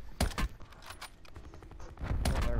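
Cluster bomb explosions in Call of Duty Blackout battle royale: a rapid string of sharp blasts and cracks in quick succession, a quieter stretch, then a heavier rumbling burst near the end.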